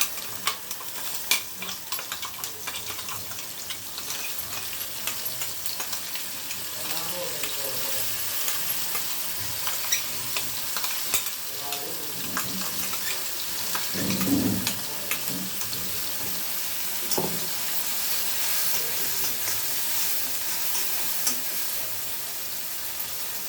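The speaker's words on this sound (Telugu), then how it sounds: "పండుమిర్చి పేస్ట్, ఇది ఆయిల్లోకి వేస్తున్నానండి" Red chili paste fries in hot oil, a continuous close sizzle with bursts of spattering and stirring scrapes that keep going throughout.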